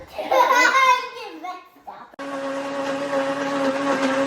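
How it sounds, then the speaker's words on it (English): A child babbles and giggles, then a blender crushing nuts roars on abruptly and whirs steadily at close range. "Do you see all the blades crush the nuts up?"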